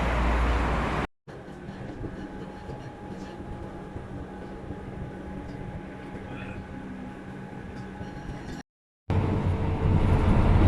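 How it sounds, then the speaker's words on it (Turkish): A steady rumbling ride aboard a tram, with continuous rail and motor noise and faint background voices. "Tramvayla pazara gideceğim."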